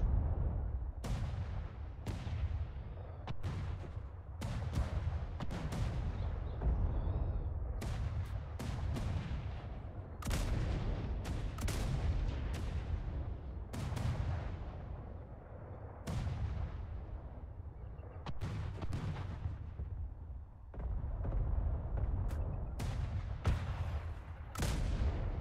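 Ship cannons fire in the naval battle game ATLAS, a near-continuous barrage of deep booming blasts with overlapping rumbling tails, loud and dense throughout with no talking.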